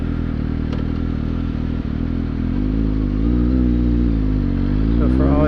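A Suzuki GSX-S750 motorcycle engine idles with a deep, steady rumble, then revs with rising, throaty tones near the end, loud and close.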